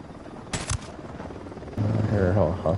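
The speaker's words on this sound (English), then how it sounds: "I hear a helicopter." A helicopter in the Ghost Recon video game swells in partway through, its steady low rotor drone growing louder and holding as it passes overhead, after a brief burst of game noise.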